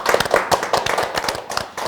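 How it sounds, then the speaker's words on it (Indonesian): A small studio audience on a Jogja podcast breaks into brisk, uneven hand clapping, with close individual claps repeating steadily for about two seconds. "boleh tepuk tangan untuk kita bersama"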